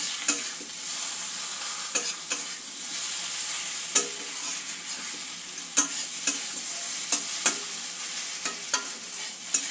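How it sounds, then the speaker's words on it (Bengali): Papaya curry with poppy seeds being stirred in a pan over low-to-medium gas flame for a vegetarian dish, a steady soft sizzle broken by irregular sharp scrapes and clinks of the spoon, close up with no talking. "পোস্ত দিয়ে একটুখানি নাড়াচাড়া করে নেব।"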